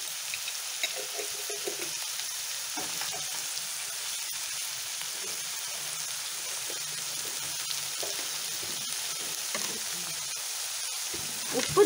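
Chutney ingredients with turmeric sautéing in a pan, a soft steady low sizzle with faint scattered stirring scrapes, fairly quiet and without speech.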